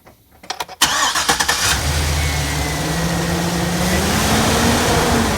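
A car engine, just fitted with a new mass airflow sensor and oxygen sensor, cranks in a quick stuttering burst and then catches, settling into a loud, steady idle close by.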